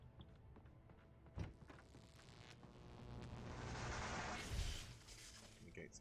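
Flashbang grenades going off in the video game Alan Wake: a sharp bang, then a swelling roar and a second low thump, set in dim game ambience.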